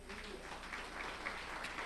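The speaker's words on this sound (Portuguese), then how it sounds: "Vamos aplaudir Jesus." A church congregation claps together in a brief, faint burst of dense, even applause heard from a distance.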